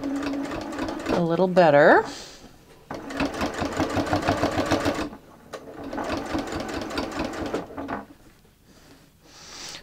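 Sewing machine stitching fabric through a bias binder attachment, running in several loud bursts of rapid mechanical whirring separated by short pauses, with someone speaking briefly between runs.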